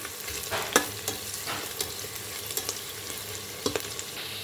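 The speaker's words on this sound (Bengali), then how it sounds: "তো পেঁয়াজটা একটু লাল লাল ভাজা হয়ে যাক।" Chopped onion frying in a pan until reddish-brown, with a steady close sizzle broken by sharp scrapes and clinks of a spatula stirring, and no talking.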